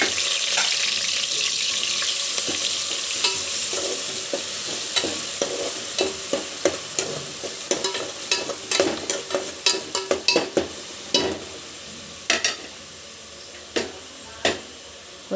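Ground onion and green chilli paste fries in hot oil with cloves, cinnamon and cardamom, a steady close sizzle broken by sharp, irregular clinks and scrapes of a spoon against the pan that grow more frequent toward the end.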